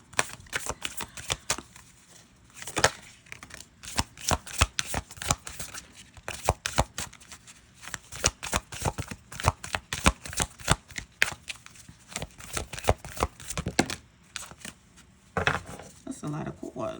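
Oracle cards from a Moonology deck being shuffled in a steady run of dense, papery riffles and flicks, close to the microphone and continuous with short pauses, with no talking over them.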